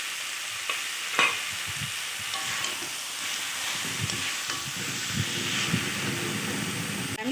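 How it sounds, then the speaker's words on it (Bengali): Fried potatoes stirred into a sizzling banana flower curry in a pan, a steady close hiss of frying with scattered scraping and stirring clatters from a spoon. "এবার আমি ভেজে রাখা আলুগুলো দিয়ে দিচ্ছি"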